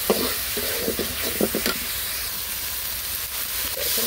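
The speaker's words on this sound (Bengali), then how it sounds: "তো বুট ভুনা করতেছি" Boiled chickpeas being stir-fried in a pan, with a steady sizzle and irregular scraping stir strokes, clustered early and again near the end, under a faint voice.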